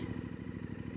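Suzuki DL800DE motorcycle engine running with a steady, rapid pulsing beat, held at constant revs close by with no voices.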